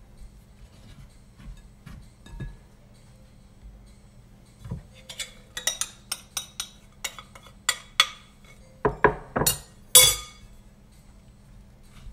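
A spoon scrapes and clinks against a bowl while coconut cake dough is mixed with baking powder, quiet at first, then a run of sharp, irregular clinks and taps growing louder, no speech.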